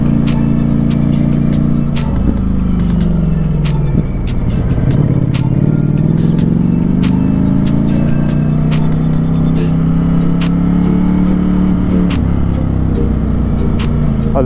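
A Yamaha FZS 600 Fazer motorcycle in race mode revs hard and steadily, its engine pitch rising and falling through gears, loud and close under heavy wind rush, with no talk.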